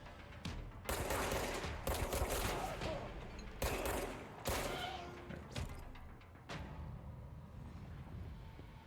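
Gunfire rattles out in the video game Control as several loud, rapid bursts that cut off and restart, thinning into quieter scattered shots toward the end.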